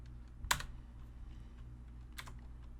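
Computer keyboard typing while working in CAD software: a few quiet, isolated key clicks, one sharper tap near the start and another light cluster later, over a low steady hum.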